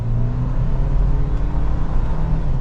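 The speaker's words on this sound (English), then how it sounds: "So setting off now in the Land Cruiser," A 2024 Toyota Land Cruiser hybrid turbo SUV pulls away at half throttle in sport mode, a steady low engine drone and road rumble heard from inside the cabin.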